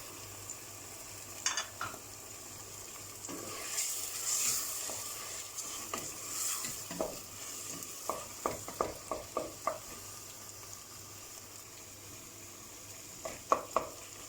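Quiet sizzling of diced meat in a pan with a series of scraping, clinking stirs, the strokes coming in quick bursts near the end.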